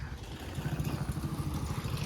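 A motorcycle engine rumbles steadily at a petrol pump, low and continuous with a faint clattering pulse, moderately close.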